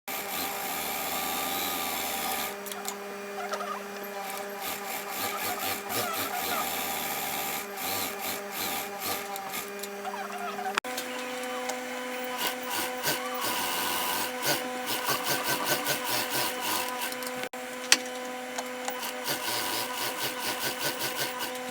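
Sewing machine running straight stitches of shirring on a tube top, a steady mechanical whir with stop-and-start pauses and shifting pitch, close and continuous for about twenty seconds.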